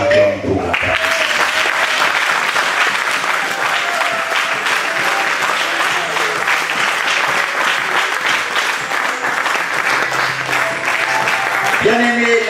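A church congregation applauds at length, steady dense clapping throughout with a crowd murmur, loud and close, and a voice briefly audible at the start and end.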